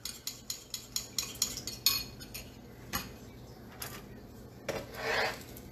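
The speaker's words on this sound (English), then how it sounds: "Stir, stir, stir." Maple-glazed pork chops being stirred in a pan, heard as a quick run of light metallic clinks and taps at first, then sparser scrapes and clatter, fairly quiet and close.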